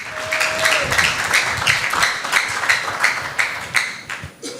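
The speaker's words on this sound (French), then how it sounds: "Est-ce qu'on peut applaudir très très fort pour l'archevêque, s'il vous plaît?" A crowd of young Congolese listeners applauds an archbishop, the clapping coming in a loud, fairly rhythmic patter of distinct claps that fades slightly toward the end.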